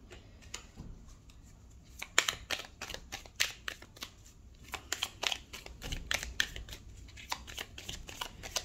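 Tarot cards riffled and shuffled by hand, then drawn and laid out, bursts of quick crisp flutters and snaps separated by quieter pauses, close but soft, with no talk.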